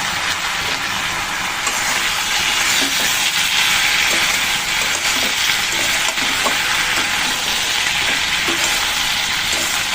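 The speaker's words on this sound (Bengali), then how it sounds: "এভাবে ধীরে ধীরে ঢাকা দিয়ে ভাজতে থাকবো।" Spring onion stalks fry in a covered pan, giving a continuous, dense sizzling hiss with faint crackles throughout, close up, with nobody speaking.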